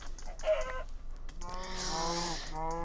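A Minecraft chicken clucks in short, close, fairly loud bursts, one near the start and a longer warbling run after a brief pause.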